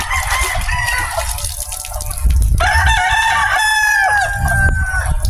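A rooster crows loudly and close by, a long drawn-out call in the second half after shorter clucking and fowl noises at the start.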